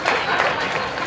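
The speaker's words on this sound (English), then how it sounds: "Just round of applause." Brief, dense applause from a comedy-show audience at a fundraiser, a steady wash of clapping throughout with no gaps.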